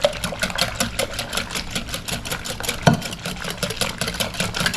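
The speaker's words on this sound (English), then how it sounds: "And we're going to whisk it together." Eggs, salt, sugar and flour being whisked together in a bowl for a banana cream pie, heard as a fast, steady, close rattling rhythm of the whisk with one sharper knock partway through.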